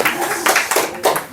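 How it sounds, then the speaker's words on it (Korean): Church congregation at a Korean Sunday worship service gives a brief round of clapping: about five quick, loud claps in a short rhythmic burst. "박수 한번 하겠습니다."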